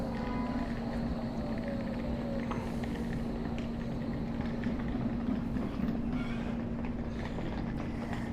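A tram runs past the passenger entrance at Blackpool North station, a steady continuous rumble with a sustained low hum that stays loud and close throughout, with no voices over it.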